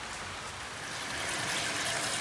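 Steady rain pours down outside a home in Kerala during the monsoon month of Karkidakam, a dense, even hiss of drops spattering on surfaces, continuous and close without a break.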